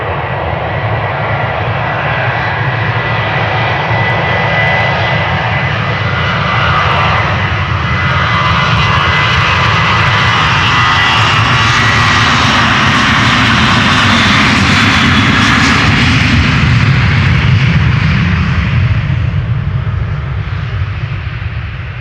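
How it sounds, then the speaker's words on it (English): A TUI Boeing 737-800 departs Amsterdam Schiphol's Polderbaan, its jet engines roaring loud and continuous, swelling toward a peak near the end before easing slightly. "Next up is TUI 737-800 going to Fuerteventura."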